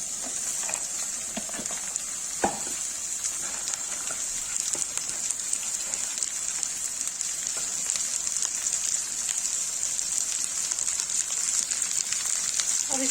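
Okra and onions fry in a pan with a steady, even hiss and crackle that carries on throughout, with a few brief clinks of a utensil and no talking.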